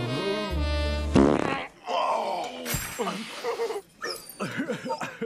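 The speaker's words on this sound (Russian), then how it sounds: "Вдруг громкий пук." A loud, buzzing fart bursts out at the start, followed by a dog's whimpers and yips mixed with groaning vocal sounds.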